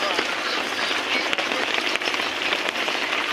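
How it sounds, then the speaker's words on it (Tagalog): Heavy rain roars steadily in a dense, continuous hiss, close and loud, with no breaks. "Talakas ang ulan o."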